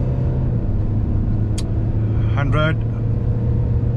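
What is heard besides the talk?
Tata Safari diesel automatic accelerating in sport mode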